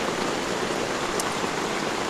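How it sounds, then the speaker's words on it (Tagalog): Heavy rain falls hard at 4 a.m. at a motorcycle campsite, a dense, steady hiss of drops drumming on surfaces close by, loud and unbroken, with no voices. "Sobrang lakas ng ulan."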